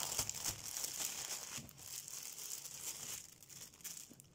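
A plastic zip bag holding diamond painting drills is crinkled and rustled up close, with irregular soft crackles and a few sharper tearing bursts, quiet overall and without talk.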